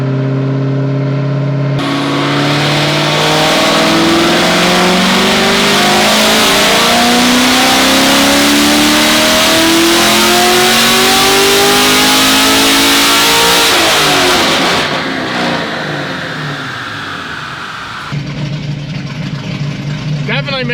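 An LT1 V8 on a dyno fitted with an MSD intake manifold revs loudly and steadily upward through a long sustained pull, pitch climbing for about twelve seconds before cutting off and dropping back to a rough idle.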